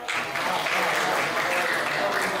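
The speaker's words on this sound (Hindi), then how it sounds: "ये जो तालियां आप बजा रहे हैं" An audience at a Hindi comedy show applauds steadily, a thick, even wash of clapping that fills the whole moment without a break.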